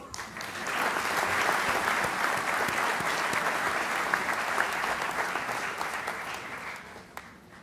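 Applause from a town meeting audience after a financial presentation, rising within a second into steady moderate clapping that holds for several seconds before tapering off, heard from a short distance.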